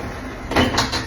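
A door in a simple house is swung shut, giving a short, soft rustle and thump followed by a couple of faint knocks, close by in a quiet room.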